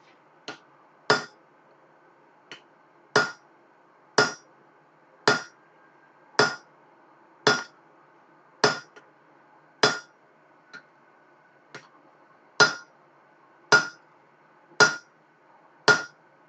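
Hammer blows ring out on an anvil as hot metal is worked at a mini forge, about a dozen sharp metallic strikes in an uneven rhythm with short pauses, close and loud with no talking.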